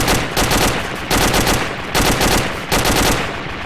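Loud bursts of automatic gunfire in a video game, four rapid machine-gun volleys in a regular rhythm with short gaps between them, close and dominant with no talk.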